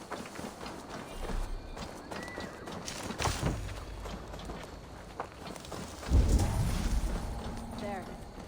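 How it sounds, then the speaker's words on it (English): Horse hooves clop along in a steady rhythm in Assassin's Creed Valhalla, followed by a loud horse neigh near the end, with scattered background noise. "Now to deliver Magni his horse."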